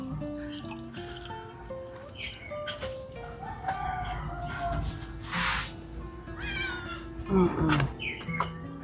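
Several cats meow repeatedly, close by, with some chicken and rooster sounds mixed in the background.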